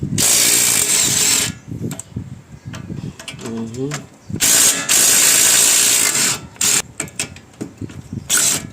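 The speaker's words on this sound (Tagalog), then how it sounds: "Maganda siguro pag luluwagan ko muna yung mga tornilyo niya" Loud bursts of ratcheting and a power tool loosen screws on a car during a CV boot replacement, in close repeated runs separated by short pauses, with someone speaking between them.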